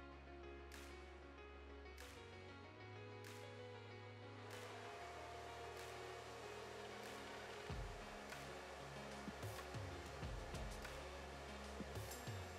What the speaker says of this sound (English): I'm mostly diffusing on the cool setting, which means the air that's coming out of the diffuser is not hot.